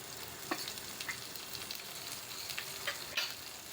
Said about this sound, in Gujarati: અને આને 1 મિનિટ માટે હું સાતળી લઈશ.